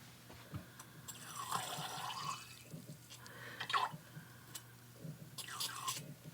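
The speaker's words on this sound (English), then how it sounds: "I'm going to use my rinse water over here to kind of clean it out." A pipette is rinsed in a cup of rinse water while making watercolor brush pens. Soft, quiet splashes and drips come in a few short bursts over about six seconds, with a faint background hiss.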